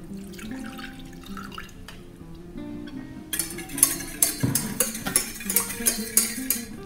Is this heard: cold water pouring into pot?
yes